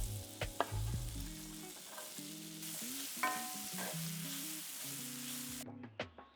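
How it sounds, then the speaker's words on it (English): Vegetables for a sausage-and-pepper omelet fry in butter in a pan, giving a steady close sizzle with occasional stirring clatter and utensil knocks, with no voices present. "Add some butter to your pan and start cooking those veggies until they're soft."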